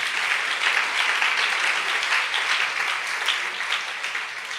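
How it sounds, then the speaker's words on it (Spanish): A church congregation claps for the Lord, a dense, loud and sustained roar of many hands that holds steady throughout with no voices above it. "Dele un aplauso al Señor en esta hora."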